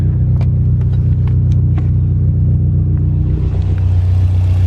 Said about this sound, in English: Alright, so the car's finally running.